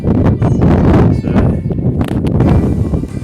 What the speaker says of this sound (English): It's just a bit windy up here.